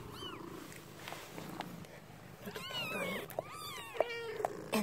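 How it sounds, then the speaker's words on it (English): A newborn white kitten gives a series of thin, high, rising-and-falling mewls, close and fairly faint, with soft rustling and handling noise between the cries. "The kitty cat."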